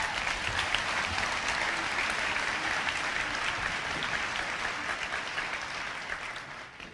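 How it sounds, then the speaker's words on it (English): An audience applauds the Board of Trustees at the 2016 Foxcroft Academy graduation ceremony, dense steady clapping from a large crowd lasting throughout and tapering slightly at the end. "Could we please give them a round of applause?"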